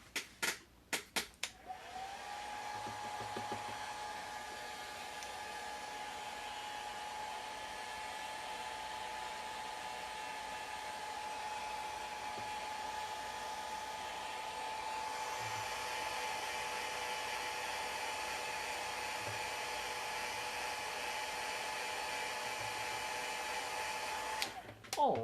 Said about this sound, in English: I'm going to use the hairdryer on him just for a second because he's still a little bit wet